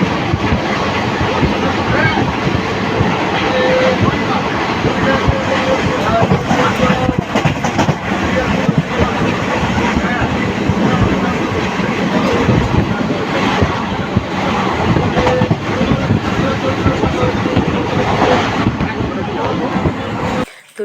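Inside a moving train between Berhampore and Kolkata, a loud continuous rumble and rattle of the carriage on the rails goes on throughout, with wind buffeting the microphone.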